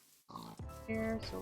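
Pigs in the Minecraft video game give short nasal grunts and oinks, close and brief, mixed with a few spoken words.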